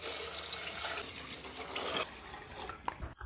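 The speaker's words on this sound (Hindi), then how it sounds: "अब हम इसमें डालेंगे पानी" Running water from a tap pours steadily into a cooking pot, about two to two and a half litres, for beef nihari being made after garlic-ginger paste is fried, a continuous splashing rush that ends abruptly.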